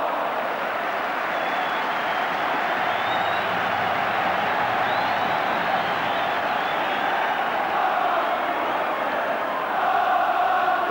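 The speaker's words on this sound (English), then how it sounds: "The Kop giving Liverpool every encouragement." A Liverpool Kop football crowd roars throughout a League Cup semi-final against Walsall, producing a dense, sustained wall of cheering and chanting at a constant loud level.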